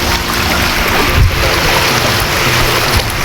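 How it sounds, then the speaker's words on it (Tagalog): A kayak pushes slowly through choppy, windy water, with a constant wash of splashing and wind noise close by and a few heavier slaps against the hull. "Kaya medyo mabagal ang takbo ng kayak natin"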